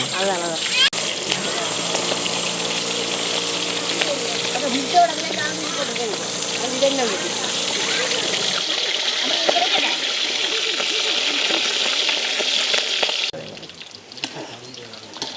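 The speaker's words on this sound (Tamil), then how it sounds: "எண்ணெய் வந்து கொதிச்சிட்டது நாங்கள் வந்து பொறிகிறதுக்கு போடுவோம் இறைச்சி" Meat frying in a pot of boiling oil during outdoor village cooking: a steady, dense sizzle and spatter that runs continuously, with a voice talking over it for much of the time.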